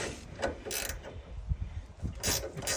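Close-up wrenching on a shock absorber bolt of a Mitsubishi Minicab kei truck, with several short ratcheting and metallic clicks in irregular bursts over low rustling.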